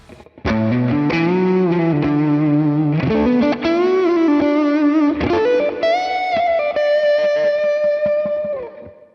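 A fast, distorted electric guitar lick rings out alone, notes tumbling quickly with heavy overdrive and a bit of reverb before fading at the end.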